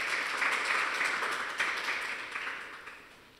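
Applause from an audience at a school mathematics awards ceremony, a steady wash of many hands clapping that holds for a few seconds and then gradually fades.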